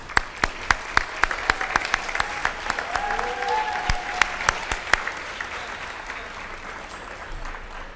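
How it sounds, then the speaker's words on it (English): An audience applauds at a gala dinner in London, with close sharp individual claps over a dense crowd clapping that gradually thins and fades toward the end. "I think they need a round of applause."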